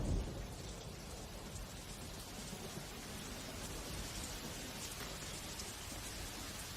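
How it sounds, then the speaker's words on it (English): Heavy monsoon rain pours steadily over tropical jungle, a dense, even hiss of drops with distant thunder rumbling low underneath throughout. "The heat and humidity triggers a dramatic change in the weather. Thunder in the distance."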